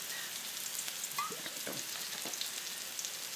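A garlic and pepper mixture for Thai spring rolls frying in a little oil, giving a soft, steady hiss of sizzling with a few faint clinks, no voices.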